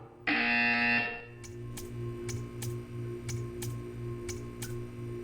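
A loud electronic buzzer in the video game Portal 2 blares for under a second, then gives way to steady ticking over a low background hum.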